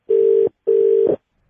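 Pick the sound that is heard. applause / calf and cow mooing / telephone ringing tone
telephone ringing tone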